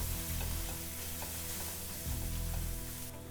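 Loud, steady sizzling and crackling of spices and garam masala frying in hot oil for a dal fry tadka, close up, with faint stirring scrapes and no talking.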